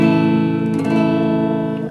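An electric guitar is played through an Ammoon chorus pedal set to deep mode. It rings out as a sustained chord or held notes with a deep, wavering, slightly detuned shimmer, loud and close, with no voices, and fades at the end.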